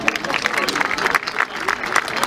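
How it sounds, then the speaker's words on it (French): A gathering of people claps for a bouquet at a family reunion celebration, a short, moderately loud patter of applause mixed with talking voices. "On applaudit le bouquet"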